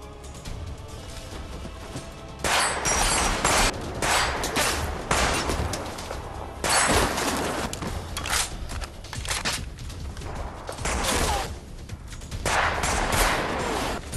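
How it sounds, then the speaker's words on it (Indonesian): Dense gunfire fills a film fight scene, continuous overlapping volleys of shots rolling and cracking for the whole stretch, loud and sustained with barely any let-up. "Dengan barbarnya mereka mulai menembak."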